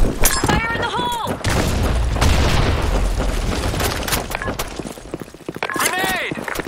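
A grenade explosion in a combat video game on the Broken City map, a loud booming blast and rumble set among gunfire and other game noise, with voiced shouts and chatter on top.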